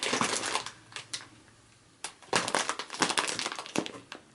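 Plastic bags holding yarn crinkle and crunch up close, with irregular bursts of rustling, a brief quiet gap, then denser handling noise.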